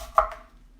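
A kitchen knife chops through cabbage into thin slices for sauerkraut, giving one sharp, close chop followed by a softer second cut, with no talk.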